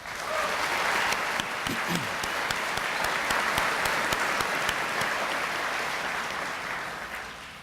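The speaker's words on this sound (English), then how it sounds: "Please join me in giving them a round of applause." Steady applause from a large audience at a spring 2019 commencement ceremony fills the full length, dense and sustained with a few louder individual claps standing out, easing slightly toward the end.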